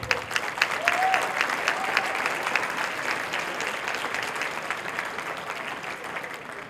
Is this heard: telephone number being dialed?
no